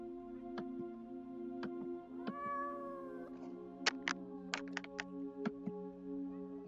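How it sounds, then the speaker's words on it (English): A single drawn-out cat meow sounds close and clear over a low steady hum, surrounded by scattered sharp clicks and ticks. "Here's the cat."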